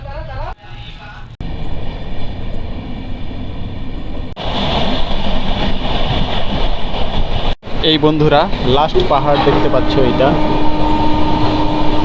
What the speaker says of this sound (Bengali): রায়গড়া স্টেশন থেকে আমাদের গাড়ি ছেড়ে দিল।